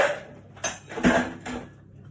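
A utensil stirs stock through Spanish chicken in a pan, giving three distinct clinks and scrapes against the metal at a steady pace, fairly close and quiet, with no talk.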